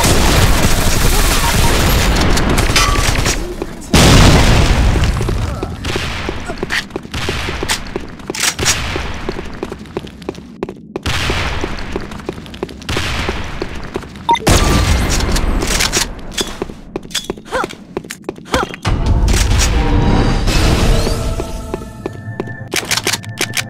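Grenade blasts and gunfire in the online shooter Sudden Attack, with loud booming explosions recurring every few seconds amid rapid bursts of rifle fire, and voices calling out over the battle.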